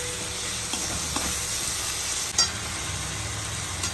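Onion with ginger-garlic paste frying in a kadai for ghugni makes a continuous bright sizzle, broken by a few soft stirring scrapes and one louder clack, no talking.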